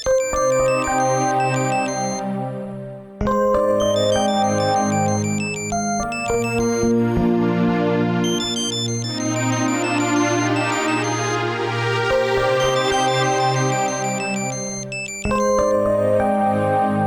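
A phone ringtone plays loud and close as a call comes in from family, a repeating electronic melody that cycles, breaks off briefly around three seconds, then resumes.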